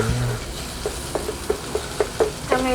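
An egg fries in a pan with a low sizzle, and a spatula scrapes and stirs against the pan in a run of short, regular knocks.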